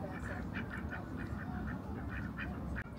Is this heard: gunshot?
no